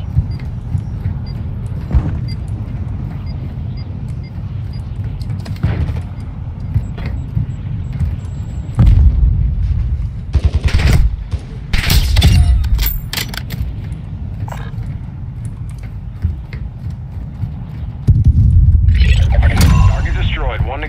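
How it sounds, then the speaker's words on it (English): Explosive charge detonations in Call of Duty MW2 DMZ, with several loud, sharp booms and bursts standing out over steady vehicle and engine rumble, while game voices speak in between. "Set security and confirm detonation."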